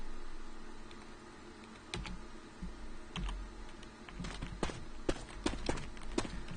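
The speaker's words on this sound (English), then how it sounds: "Open up the console again, type in nav delete." Keys tapped on a computer keyboard as a console command is entered, irregular clicks in short bursts growing denser toward the end, close and fairly quiet over a faint background hiss.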